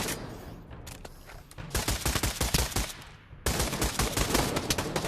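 Rapid automatic gunfire in the video game Pavlov Zombies, dense bursts of shots that pause briefly and then resume in a long sustained volley, loud and up close with no talking.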